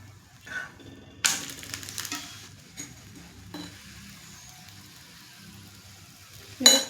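Oil hisses and crackles as it hits a chapati on a hot pan, with intermittent sizzling bursts, scraping of a spatula and a few sharp clatters of utensils, close and unaccompanied by talk.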